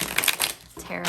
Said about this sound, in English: I do have to shuffle these damn cards.